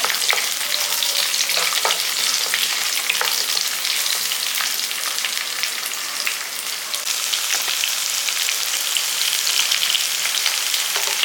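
Garlic and shallots sautéing in a pan, a continuous close sizzle broken by frequent crackles and stirring clatters, with no voices.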